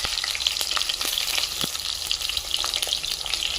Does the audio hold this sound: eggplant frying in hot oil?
yes